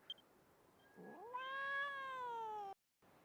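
A kitten in the Dragon Quest X game gives one long, drawn-out meow that rises and then holds steady. It is loud and close, comes after a short chirp, and is followed by a brief silence.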